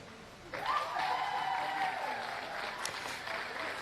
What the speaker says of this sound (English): We've got a big cheer from the crowd